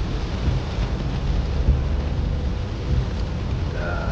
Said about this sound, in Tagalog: ngayon sobrang lakas naman ng ulan